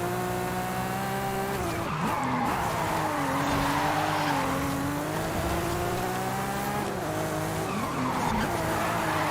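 A car drifts in the Forza racing video game, its tires squealing loudly and continuously over a steady engine roar, with the pitch sliding up and down as it slides through the corners.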